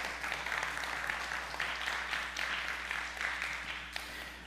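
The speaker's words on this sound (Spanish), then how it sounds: "Alguien que le dé un aplauso al Señor." Light applause rises from a church congregation, steady scattered clapping at moderate distance with no speech over it.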